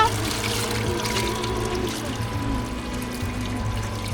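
Sparkling spring water at Devil's Bridge in Armenia pours in a steady, close trickling stream, holding an even level throughout without any speech.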